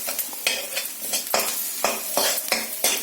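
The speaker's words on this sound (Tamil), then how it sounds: "இப்போ இந்த கார்லிக்கும் நல்லா ஃப்ரை ஆனதுக்கு அப்புறம்" Garlic fries in a pan for potato tawa fry, sizzling steadily while a utensil stirs and scrapes against the metal in quick, repeated strokes, close and clear with no talking.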